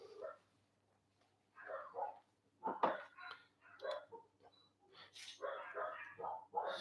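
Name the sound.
dog barking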